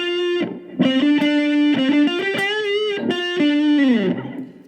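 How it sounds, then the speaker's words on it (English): Cigar box guitar played through a Roland Micro Cube GX amp with reverb on, distorted sliding notes and short phrases ringing out with a lingering wash, loud and close, with no voices. "Really nice reverb"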